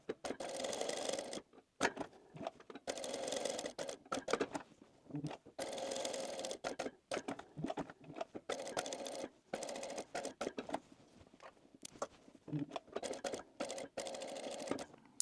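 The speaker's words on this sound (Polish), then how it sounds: "Zaczynam szyć przed samym rogiem, ponieważ muszę jeszcze zostawić miejsce na wywrócenie." Sewing machine stitching plush tomato fabric near a corner, running in repeated bursts of rapid stitching separated by brief pauses, close and clear with no talking.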